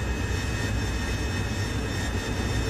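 A VTOL jet engine roaring while hovering in the flight simulator game DCS World, a loud, steady, dense jet whine and rumble with no variation and no talking.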